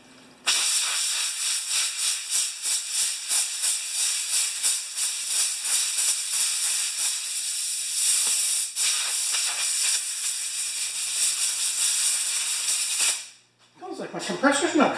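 Compressed air blasting through a part from a 2010 Kia Soul, a loud continuous hiss with pulsing fluctuations lasting about thirteen seconds before cutting off, followed by a brief voice.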